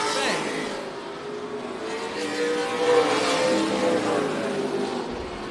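Stock cars race at Tucson Speedway during a NASCAR weekly event, their engines droning and rising in pitch as they pass. A commentator talks continuously over the steady roar.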